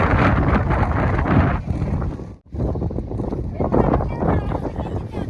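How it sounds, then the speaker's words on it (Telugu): Strong wind in a forest buffets the microphone in a heavy, rumbling roar that dips briefly and then surges back. "అసలు ఎంత బాగా గాలి వస్తుందో చూడండి"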